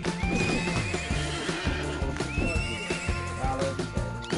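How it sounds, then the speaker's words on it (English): Minecraft horse neighing and whinnying repeatedly in the game, with clip-clop hoof sounds under a layer of steady game music, loud and close throughout. "My horse, what is happening with my horse?"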